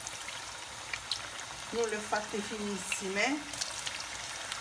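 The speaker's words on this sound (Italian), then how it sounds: "come sentite l'olio frigge" Eggplant slices fry in hot oil with a soft, steady sizzling hiss that stays faint and constant beneath someone talking nearby.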